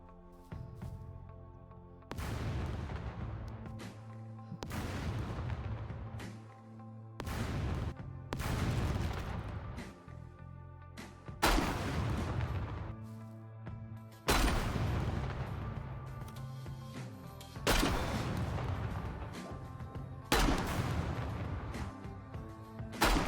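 A series of booming explosions in the video game SCUM, about eight in all, each a heavy blast that rumbles and fades before the next one hits.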